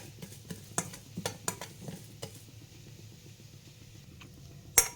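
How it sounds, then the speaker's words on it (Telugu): Cardamom pods and other ingredients for mango murabba being stirred and dry-roasted in a pan, with a steady faint sizzle, scattered clicks of a utensil scraping the pan, and a sharp clank near the end. "ఇవన్నీ వేసి చక్కగా వేయించుకోవాలి"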